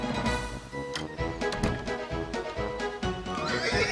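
Horses in the Western video game Boot Hill Heroes whinny and neigh over a lively game soundtrack, with several loud, close calls, including one long neigh, layered through the music.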